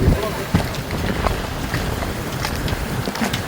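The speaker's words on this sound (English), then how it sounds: "Quite breezy along the harbour." Steady breezy wind gusting along a harbour in Bodrum, Turkey, a continuous broadband rush of air buffeting the microphone, with faint background activity beneath it.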